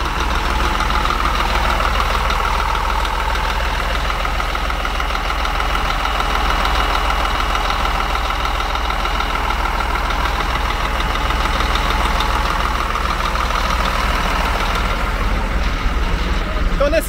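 Scania 400-horsepower bus engine idling, a steady, loud low rumble with a continuous mid-range drone and faint knocking texture throughout, without pause.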